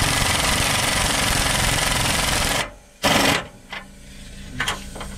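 A power tool tightens a U-bolt on a Dana 60 axle being fitted to a 1974 Dodge W200, a loud steady rattling hammer that runs for several seconds, stops, then gives a short burst and a few brief taps.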